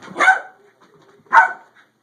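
A dog gives two loud, close barks about a second apart, with near-silence between them.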